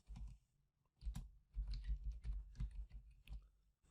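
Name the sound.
typing a Python command on a computer keyboard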